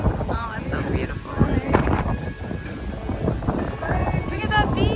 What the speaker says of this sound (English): It's not cool, but it's just windy.